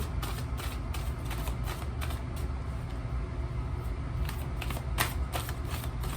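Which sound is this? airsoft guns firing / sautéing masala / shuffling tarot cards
shuffling tarot cards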